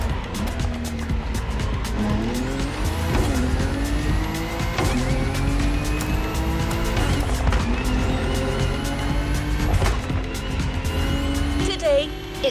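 A BMW M5 Drift Edition drifting in the racing game The Crew Motorfest, its engine roaring steadily with rising gear pulls and long tire squeal throughout, loud and close, while a voice talks over it.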